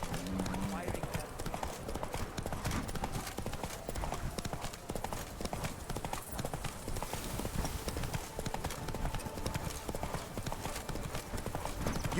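Roach, the horse in The Witcher 3, gallops with a dense, steady clip-clop of hooves throughout, close and continuous, while game speech runs over it.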